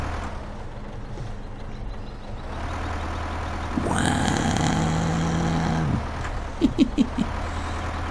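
A tractor engine in the farming game Farming Simulator 15 drones steadily, rising into a louder working whine for a couple of seconds before settling, followed by a few short mechanical beeps, with a brief spoken exclamation.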